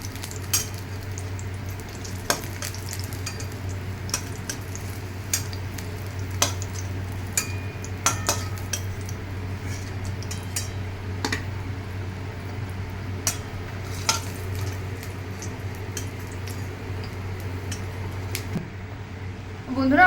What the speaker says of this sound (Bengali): ডুবো তেলে বা অল্প তেলে হেলদিভাবে এইভাবে পটলগুলোকে ভেজে নিতে পারেন